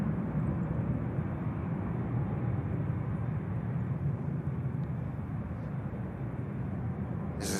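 A Saudi airliner taxiing at Manchester Airport gives off a steady, distant jet engine rumble and broad whine that holds constant throughout, with no speech.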